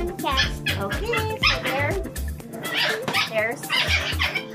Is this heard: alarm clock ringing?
no